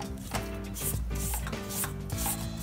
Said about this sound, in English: I want to clean the sides of the bowl